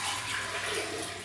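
Spring water being poured into a juicer, a steady close splashing stream filling the container without pause and with no talking.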